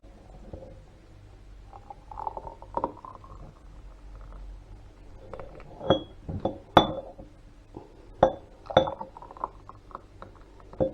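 Glass jars clink and knock together while gooseberry jam is potted up, a handful of sharp, close taps scattered among quieter handling sounds.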